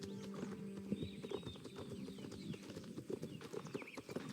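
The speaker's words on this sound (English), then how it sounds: "could it be another one of the horses?" Horse hooves clip-clop in a steady walking rhythm in the Star Stable video game, faint and even, with light game ambience and a few soft bird-like chirps behind.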